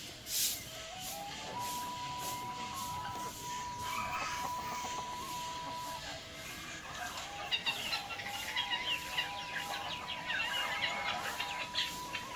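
Free-range village chickens clucking and calling in a yard, a mix of steady clucks and drawn-out tones over a constant outdoor background.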